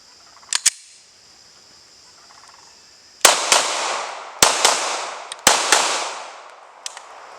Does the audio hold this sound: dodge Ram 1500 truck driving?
no